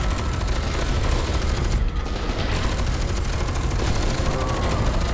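Sustained gunfire in the shooter game F.E.A.R. 2 during a tram-ride fight, a loud, dense barrage of overlapping shots and booms that continues without pause for several seconds.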